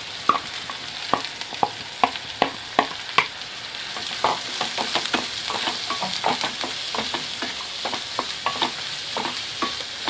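Onions frying in oil in a kadai, a continuous sizzle broken by frequent sharp scraping and tapping stirs in an uneven rhythm, close and clear with no speech.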